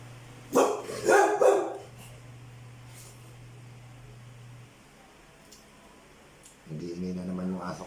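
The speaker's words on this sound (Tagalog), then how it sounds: "Nag-iingay na naman yung aso ko." A dog barks in a quick burst of three or four loud, close barks, then goes quiet; a voice is heard faintly later on.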